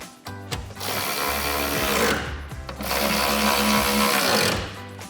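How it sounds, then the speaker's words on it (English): Ratchet tightening the factory bolts on an Extang Trifecta Signature 2.0 tri-fold tonneau cover on a 2024-2025 Toyota Tacoma, two sustained bursts of rapid mechanical clicking close by with a short pause between. "Grab the ratchet and tighten them back down."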